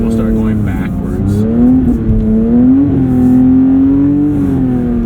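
A Porsche 911 sports car powers along a track at the Porsche Experience Center, its engine note rising and falling steadily as the throttle is worked, loud and close throughout with a voice speaking over it.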